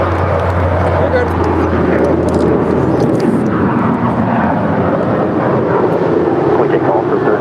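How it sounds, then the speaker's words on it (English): Alaska Airlines jet departing LAX on a flight to Zihuatanejo, heard as a loud, steady roar of jet engines with wind rumble, sustained throughout the stretch with a person talking over it. "That is Alaska Airlines Flight 512 departing to Zihuatanejo."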